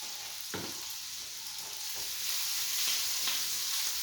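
Alfredo sauce ingredients, including heavy whipping cream, crushed red pepper and salt, being stirred in a pan, with a steady broadband sizzle and a few soft scraping strokes, close and continuous with no talking.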